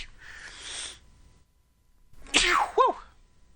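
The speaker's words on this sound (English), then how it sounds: "I'm going to sneeze" A single person sneezes close by, sharp and loud, after a short intake of breath and rustling, then the room goes quiet.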